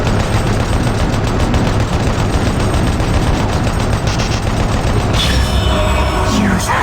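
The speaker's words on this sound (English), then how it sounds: "And now then, chain gun fight!" Rapid chaingun fire in Doom 3 BFG Edition, a loud, unbroken stream of fast shots with heavy low booms, continuing throughout with some higher metallic sounds near the end.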